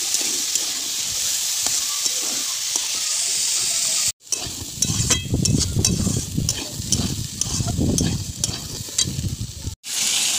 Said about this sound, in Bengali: ডালটা আগে ভেজে নিলাম, এবার সবজিগুলো দিয়ে একটু ভেজে নিব